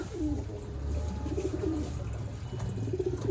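Racing pigeons at the loft after a 349 km race from Matnog, Sorsogon, giving soft, low rolling coos close by over a steady background rumble.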